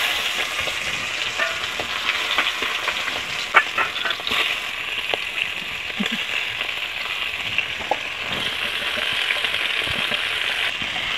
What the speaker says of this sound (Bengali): আমার তেলটা গরম হয়ে গেছে, এখন মাছগুলো সম্রানোর জন্য আমি উঠিয়ে দিচ্ছি